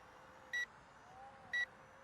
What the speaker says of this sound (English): it's beeping incessantly in the headless mode